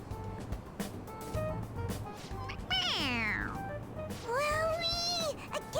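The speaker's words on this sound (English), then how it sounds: "It's a stuffed animal, kid. Fuck off. Yeah, it's just a toy. It meows when you press on its head." A stuffed toy cat in the video game Persona 5 Royal meows when its head is pressed, giving two rising-and-falling synthetic meows over a steady game background hum.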